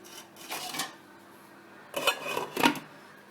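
A metal pot being handled while cooking Jamaican saltfish and baked beans, with clinks and scraping of cookware in two short bursts separated by a quiet gap, close and clear with no talk.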